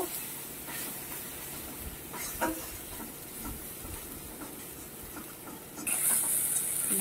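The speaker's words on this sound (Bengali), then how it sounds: "এবার এটা তেল ছাড়া পর্যন্ত একটু কষিয়ে নেব" Vegetables sautéing in oil with turmeric and salt, cooked down until the oil separates: a steady, close sizzling hiss with occasional stirring scrapes, growing louder and brighter near the end, with no talking.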